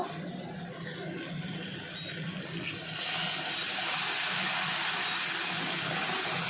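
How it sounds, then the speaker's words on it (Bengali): Hot water poured off boiled pointed gourd (potol) while making a spicy potol jhal, a steady rushing, splashing flow that swells louder partway through and carries on close to the microphone. "গরম জলটা ঝরে দিয়ে দেবো।"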